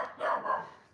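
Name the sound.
dog barking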